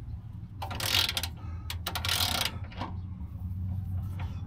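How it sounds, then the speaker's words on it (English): A ratchet tightens the spare tire carrier on a Land Rover LR4, giving two loud bursts of rapid clicking close up, then a softer third run near the end, with no talking. "So I'm using it. Ratchet that's too big at the moment."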